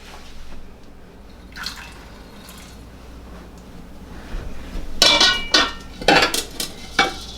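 Elderberries clatter and patter into a metal pot in several quick bursts, following a quiet stretch with faint background hum.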